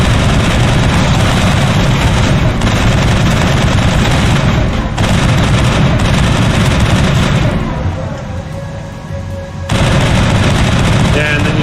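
Loud, sustained automatic gunfire rattles while shooting Thorian nodes in Mass Effect, dipping briefly before resuming at full intensity, with a voice under the noise.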